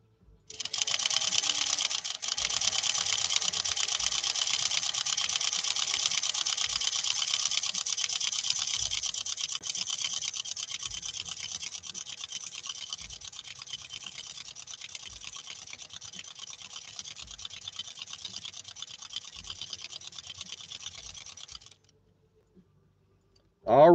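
A 1940 Singer 201-2 sewing machine stitches a zigzag pattern in a fast, even run of mechanical clicking that lasts about twenty seconds, then stops abruptly.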